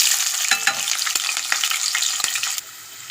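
Garlic, dried chilies, onions, green chilies and curry leaves fry in hot oil with a loud, steady sizzle, broken by brief stirring scrapes, then the sizzle drops quieter near the end; no talking.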